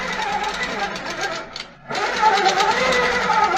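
A longarm quilting machine stitches across a quilt top with a rapid, steady mechanical chatter that briefly stops and then restarts, heard up close while a person talks.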